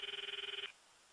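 A phone rings in the visual novel game Steins;Gate, a rapid trilling electronic ring lasting under a second and then cutting off into quiet, with no talking.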